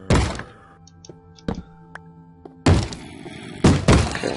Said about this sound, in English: And they were banging at the doors.